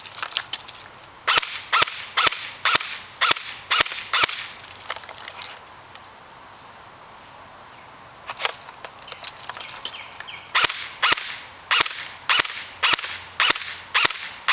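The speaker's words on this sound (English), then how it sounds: "I'm still noticing that the BBs are still consistently shooting to the left." An airsoft gun fires BBs in quick sharp cracks, shots in rapid groups and strings that pause for a few seconds of near quiet midway before the shooting resumes.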